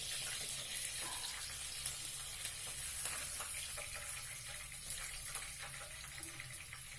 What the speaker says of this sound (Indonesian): Ini ikannya digoreng sampai kering